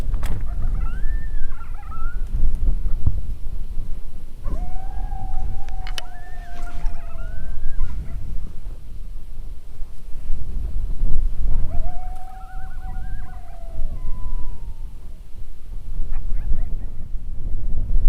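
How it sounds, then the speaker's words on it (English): Coyotes in Canada, including a young pup, call from a distance with wavering, rising and falling yips and howls in two bursts, over steady wind rumble outdoors. "Sounds like a young pup coyote off to our right, but it's downwind."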